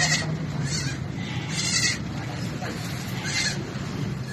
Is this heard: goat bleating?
yes